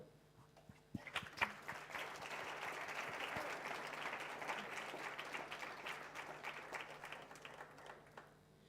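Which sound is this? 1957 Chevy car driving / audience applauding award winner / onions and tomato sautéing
audience applauding award winner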